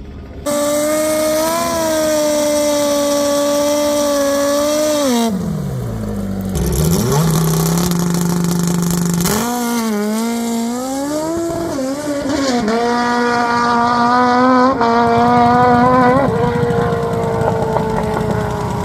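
A Duromax 208 mini bike engine with a Racing 292 cam revs loudly and continuously, pitch climbing and dropping as it races, whining up and down through repeated throttle bursts.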